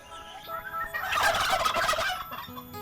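Turkeys, including bronze, bourbon red, white holland and black spanish breeds, gobble in a loud, rattling burst near the middle, several birds overlapping, with quieter calls before and after.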